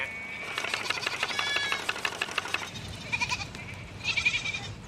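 Freshly shorn sheep bleat in a series of nasal, wavering calls, close by over light background noise, with a pause and then more short bleats.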